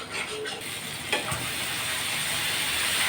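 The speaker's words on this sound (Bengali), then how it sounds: "এখন আমি মশলাটাকে ভালো মতো কষিয়ে নেব" Spice paste with tomato paste sizzles and fries in a pan, a steady close crackle with a brief stirring scrape partway through.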